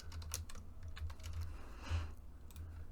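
Quiet computer keyboard typing in a short burst of quick keystrokes, close but soft, over a low steady hum with no voices.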